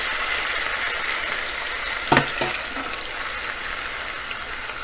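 Finely chopped onion sizzles in hot oil for a meatball masala, a loud even frying hiss with a sharp clatter of a spoon stirring midway, then continued steady sizzling; no talking.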